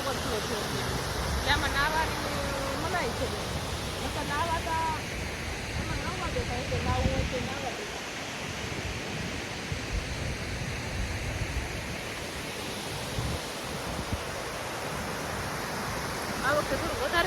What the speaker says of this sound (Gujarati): આજ તમને નજીકથી પણ દેખાડ્યું ઓવરફ્લો